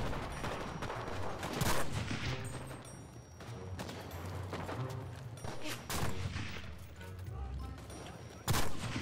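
Scoped Kar-98 sniper rifle fire in a shooting video game, sharp loud single cracks scattered among a dense, busy battle soundscape of other gunfire and explosions, mostly without talk.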